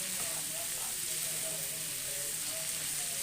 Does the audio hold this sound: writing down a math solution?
no